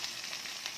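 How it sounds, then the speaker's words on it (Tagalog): String beans drop into sizzling pinakbet vegetables in a hot pan, a steady close frying hiss that holds throughout. "Ilagay ko na yung ating sitaw."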